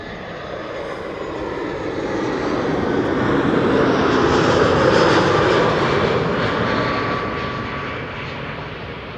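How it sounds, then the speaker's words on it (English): A business jet arriving at Amsterdam Schiphol Airport, its engine roar swelling steadily to a loud peak at close range and then easing off, broad and continuous, with no voices. "this airplane is arriving from Celiac City"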